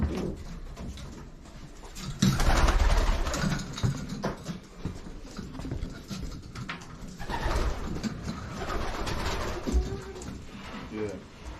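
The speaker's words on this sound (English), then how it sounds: "And then we got a bunch of birds in the fly pen." Pigeons coo in a loft fly pen, a soft steady murmur of many birds close by with some rustling and clatter, while a person talks over them.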